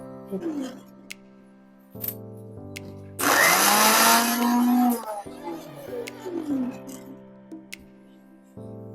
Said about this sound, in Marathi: आता मी वाटण वाटणार आहे